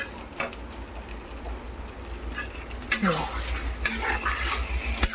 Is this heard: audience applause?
no